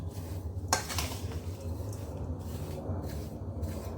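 Besan ladoo mixture being stirred in a pan, a steady scraping and clinking of a spoon against metal with a sharp knock near the start, continuous and close with no voices.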